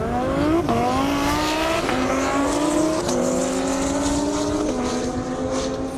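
A drag-style race car launches on a half-mile airstrip, its engine roaring loud and close with a rising pitch that climbs through several sharp gear shifts, steady and continuous over six seconds.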